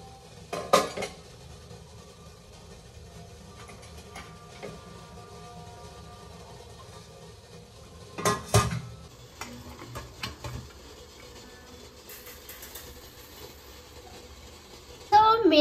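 Metal pots and utensils clatter in a home kitchen while rice is cooked, with scattered clanks and scrapes in sharp bursts and quieter stirring and ticking between them, someone talking at times.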